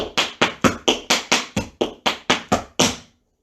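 Tap shoes strike a hard floor in a steady run of about eleven crisp, evenly spaced hits over three seconds of a beginner home tap class, working through step, shuffle and ball-change patterns, then fall silent.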